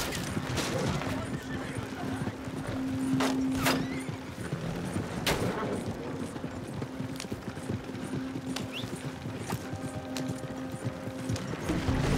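Horse hooves clip-clop steadily through a Red Dead Redemption 2 game scene, a moderate rhythmic plodding heard among other in-game ambience and a few sharp bangs.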